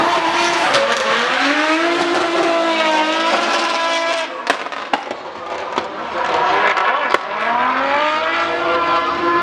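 A rally car with a 3.2 litre engine races through a rally stage, its engine rising and falling in repeated revving sweeps with gear changes, plus sharp cracks and pops from the exhaust, loud and close.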